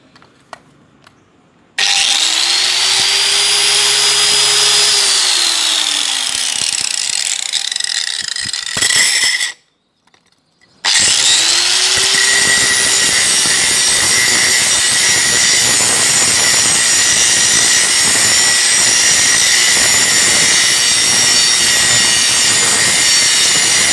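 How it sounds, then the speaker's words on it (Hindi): An electric grinder with an iron-rubbing stone wheel grinds iron into filings: the motor whines up to speed into a loud, continuous harsh grinding roar, cuts out briefly, then spins up and grinds steadily again. "इस तरह की आपको ग्राइंडर मशीन लेनी पड़ेगी।"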